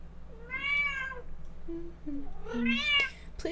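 Hobbs the cat meows twice, loud and close, each call a drawn-out whine, with softer short chirping sounds in between and a low hum running underneath.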